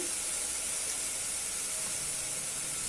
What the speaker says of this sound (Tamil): நான் வந்து இப்போ ஒரு கொத்து கருவேப்பிலை போட்டுக்கிறேன்